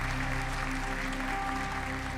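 Church congregation applauding in praise during a worship service, a continuous even clapping wash with a low sustained musical hum underneath, no one speaking over it.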